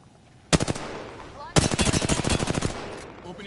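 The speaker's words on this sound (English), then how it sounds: "Opening fire." Video game gunfire: a short burst of rapid automatic shots, then a longer sustained burst of fast, evenly spaced loud cracks, close and sharp, with faint in-game sounds between bursts.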